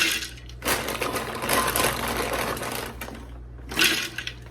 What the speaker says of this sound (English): you take 3 cups and you put them in your food processor because you're going to